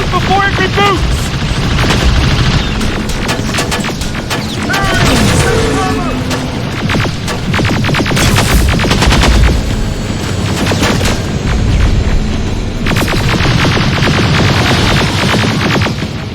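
Sustained gunfire in the Terminator: Resistance video game, loud rapid bursts and booming shots layered over a thick sci-fi action soundscape, with a voice speaking amid the chaos.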